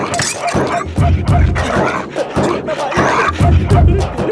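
A dog barks and yelps repeatedly and close by in a comedic scene, loud bursts over a continuous bed of agitated activity, with no clear speech audible.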